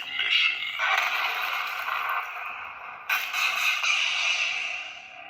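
A KY Jedikiller lightsaber sound font fires its pre-on effect: a sustained, bright crackling hiss that swells, dips briefly, then surges again near the end, steady and close with no talking.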